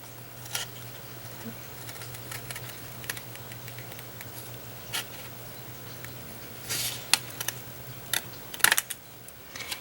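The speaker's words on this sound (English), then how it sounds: "I would use a large scissor so you can cut more in one swipe here" Large scissors snipping paper along a line for a papercraft pillow box, soft ticking and patter at first, then a denser burst of crisp close cuts toward the end, with no talking.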